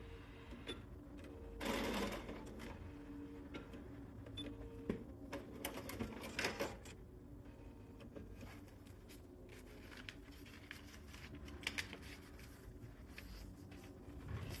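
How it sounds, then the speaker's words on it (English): A sewing machine backstitching the end of a seam, a quiet close rattling stitch run with short bursts and pauses, faint handling noises between. "We're going to backstitch here the end."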